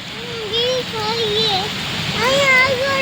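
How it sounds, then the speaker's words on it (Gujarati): Heavy rain pours down on a roadside journey in Gujarat, a steady hiss under a wavering tonal voice-like sound that rises and falls through the passage. "કેવો વરસાદ આવે છે"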